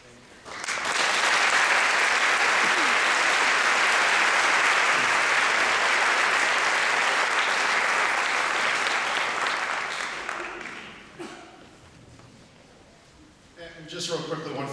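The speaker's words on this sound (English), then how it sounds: "So again, please give these guys a round of applause." Sustained, loud applause from an audience for an honor band, a dense wash of clapping that swells in, holds steady for about ten seconds, then fades, with a brief voice at the end.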